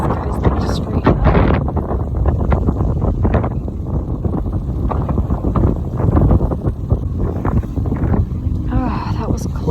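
Strong wind buffets a sailboat at anchor in a stormy Ionian bay, a loud, continuous roar and gusting rumble across the whole stretch, with people talking over it.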